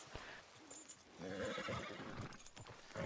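A horse in Red Dead Redemption 2 gives a loud, close whinny with rising and falling neighs, set among light hoof clip-clops and game ambience.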